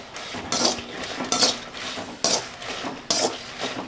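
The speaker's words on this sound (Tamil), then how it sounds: "கடாய் சூட்லேயே கொஞ்சம் நேரம் கலக்கிட்டுருங்க." Roasted chillies are stirred in a hot kadai off the heat, with a spoon scraping in several distinct sweeps over a faint residual sizzle, close and moderately quiet, with no speech.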